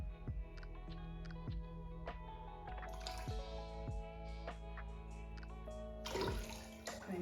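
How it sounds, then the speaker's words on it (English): Glaze sloshes and drips around the inside of a ceramic pottery piece, with soft liquid swirls and scattered drops over a faint ringing background, brief louder splashes near the start and end. "and then I'm going to swirl it around."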